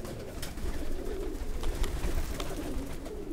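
Domestic pigeons in a loft, including a hen, cooing steadily at moderate distance, a soft low murmuring coo over a continuous bed of rustling and small bird sounds, with a few brief sharp clicks.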